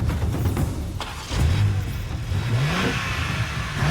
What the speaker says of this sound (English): This is the 328 horsepower Volkswagen Golf R, and it is, for perspective, the fastest accelerating hot hatch ever sold in America.